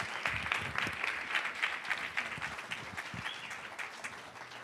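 Sustained applause from an audience, dense clapping that stays steady for several seconds before easing slightly toward the end.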